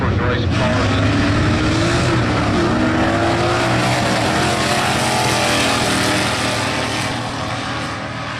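Drag race cars, including a Chevy II Nova running a Holley carburetor, roar loudly down the strip in a continuous engine blare that slowly fades, with a voice talking over it.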